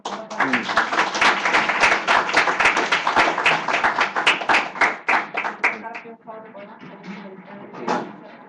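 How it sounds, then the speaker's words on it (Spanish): Clapping from a symposium audience closing a medical presentation on glioblastoma, brisk and fairly loud for about six seconds before thinning into scattered claps with some background voices. "Hemos terminado la presentación con un fuerte aplauso, por favor."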